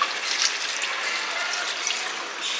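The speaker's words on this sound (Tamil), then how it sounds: "இப்போ இதில் கொஞ்சமாக தண்ணி ஊற்றி" Water pours into mutton gravy simmering in a pan after the ginger-garlic has been sautéed, making a soft, continuous hiss and trickle with a few faint splashes and no talk.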